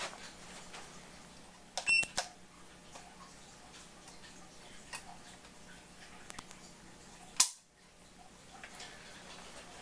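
Trigger of a Rock Island Armory 10mm Ultra FS pistol pulled against a trigger pull gauge: quiet room tone broken by a small cluster of light mechanical ticks, then one crisp, louder click as the trigger breaks.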